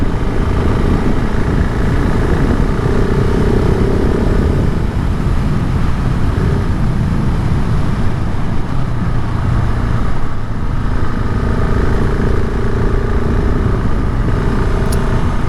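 A 2021 KTM 690 SMC R single-cylinder motorcycle rides steadily on a curving road, with continuous loud engine drone and wind rush, rising and falling slightly with throttle.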